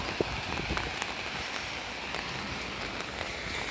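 Steady rain falls outdoors during a walk to work, a dense even hiss with occasional sharper drops and taps close by, with no talking.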